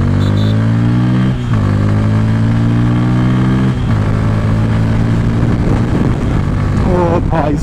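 A 2024 Bajaj Pulsar N160 motorcycle engine, loud and close, revving as it runs through gear shifts that show as steady rises and sudden drops in pitch, with someone talking over it.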